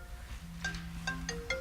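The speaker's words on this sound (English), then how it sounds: "Somebody's phone here." A mobile phone ringtone goes off during a food literacy talk, a short melodic sequence of bright electronic tones, faint and somewhat distant in a quiet hall.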